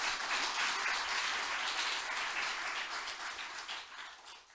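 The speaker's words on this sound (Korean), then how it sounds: "박수 한번 부탁드립니다." A church congregation applauds during a pastor's installation service, a steady, fairly soft wash of many hands clapping that tapers off toward the end, with no talk over it.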